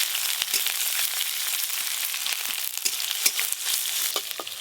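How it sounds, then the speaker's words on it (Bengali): Panch phoron, dried chillies and chopped onion frying in hot oil, a loud crackling sizzle with sharp pops and spatters throughout. "পাঁচ ফোড়ন আর শুকনো লঙ্কা ফোড়নে দেব, আর দেব পেঁয়াজ কুচি।"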